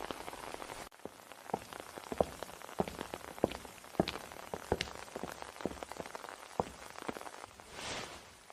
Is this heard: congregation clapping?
no